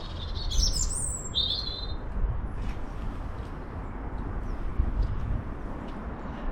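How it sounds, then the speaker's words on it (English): A songbird sings a few bright, high chirping phrases in the first couple of seconds from a garden apple tree, then goes quiet under a steady outdoor background hiss. "in this apple tree at the top there, next door's apple tree, we got beautiful bird song"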